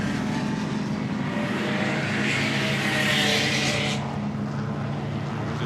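Historic racing car at the Goodwood Members' Meeting: a loud, continuous engine roar as the car approaches and sweeps past nearby, with a hissing rush that builds and then cuts off sharply near the end.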